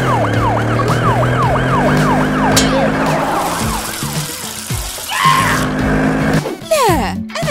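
A toy fire truck siren wails in rising and falling sweeps, fairly loud, with a voice and other voices briefly over it.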